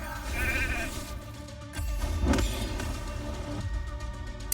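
A sheep bleats inside a video game, a clear wavering bleat set over a continuous layer of game music and effects.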